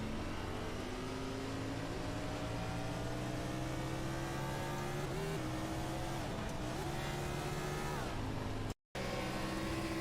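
Onboard with the number 4 dirt track race car at Bristol, the engine drones loud and steady throughout, its pitch climbing and sagging with throttle and a brief cut near the end.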